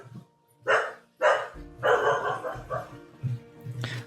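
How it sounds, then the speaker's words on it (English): A real dog barks repeatedly in the background, several loud separate barks spread across the moment, heard over faint city-building game audio. "I apologize for the dog barking"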